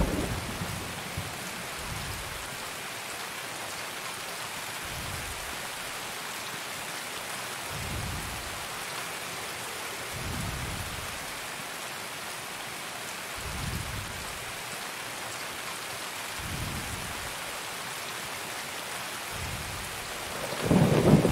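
Steady rain hisses throughout while low thunder rumbles roll in repeatedly at irregular intervals, distant and deep, in the video game Escape from Tarkov.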